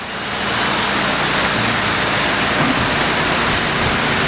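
Heavy rain and wind from a storm lashing an outdoor trailer-decking job site, a steady, loud, unbroken hiss that fills the whole span.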